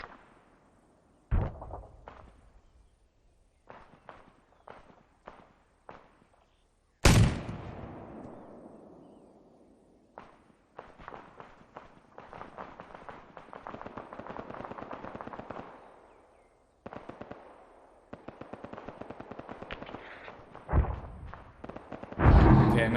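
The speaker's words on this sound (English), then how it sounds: "Mortar's coming out." Video game combat with mortar fire and incinerator rounds detonating behind a wall: a big blast with a long rumbling tail, sporadic sharp gunshots before it, then sustained rapid machine-gun bursts and further explosions, loud and close throughout.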